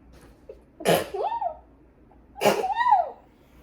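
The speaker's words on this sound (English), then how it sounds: "You guys have to hear my sneeze." Two loud sneezes about a second and a half apart, each a sharp burst followed by a short voiced trailing sound, close to the mic.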